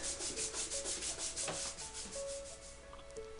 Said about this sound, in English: Followed by light sanding